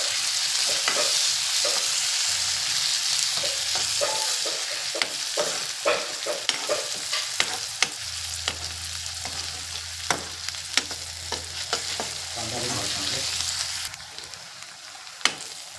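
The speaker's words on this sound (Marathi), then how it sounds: "आता आपण त्याच्यामध्ये टोमॅटो ॲड करूया। 1 टोमॅटो मी चिरून घेतलेला आहे बारीक, तोही चांगला भाजूया।" Finely chopped onion and tomato frying in a pan, a steady sizzle with repeated sharp scrapes and taps of a spoon stirring, close and continuous with no talk.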